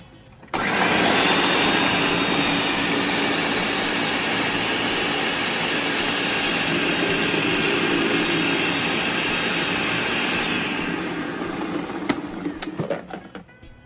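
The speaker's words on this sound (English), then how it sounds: "sometimes you have to stop the blender and turn it back on" A blender roars continuously, grinding and crushing ice with a harsh rattling whir before it winds down near the end.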